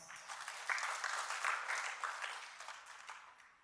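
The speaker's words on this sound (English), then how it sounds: "with a big round of applause" Audience at an International Day of Yoga celebration applauding to welcome the chief guest, a dense, fairly distant wash of many hands clapping that swells and slowly fades, with no talk.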